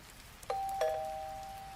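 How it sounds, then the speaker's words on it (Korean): Two bright electronic doorbell tones, ding then dong, ringing out clearly and fading slowly in a quiet room. "다음날 아침 일찍 초인종이 울려서 나가봤더니"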